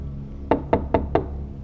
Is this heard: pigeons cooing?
no